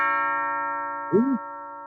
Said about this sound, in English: Do you hear the ding dong? Do you hear the bell of the mansion?